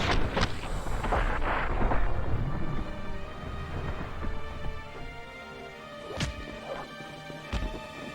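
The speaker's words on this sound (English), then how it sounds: "What blew up?" A blast goes off inside The Matrix video game, a loud crashing burst at the start followed by rumbling debris, with two sharp impacts later on.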